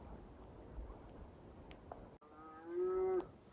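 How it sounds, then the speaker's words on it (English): A single long, low moo from free-range cattle on a hill in the Rockies rings out near the end, somewhat distant, after a stretch of quiet outdoor ambience. "You can hear the free-range cattle up on the hill too."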